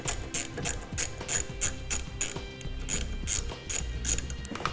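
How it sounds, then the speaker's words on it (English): A ratchet wrench tightens hardware on circuit breakers in a 2003 Honda Pilot during a trailer brake controller install, with a steady run of rapid, close pawl clicks in bursts over nearly five seconds, no talking. "Go ahead and tighten up hardware on our circuit breakers for our wires"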